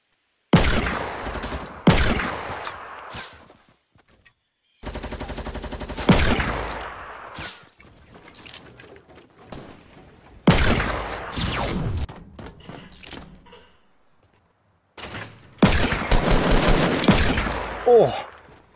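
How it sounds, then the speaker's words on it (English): Revolver shots in Fortnite fire as sharp, loud bursts in separate clusters, some in quick doubles, with short quiet gaps and faint footsteps between the volleys. "that's a double fucking revolver shot"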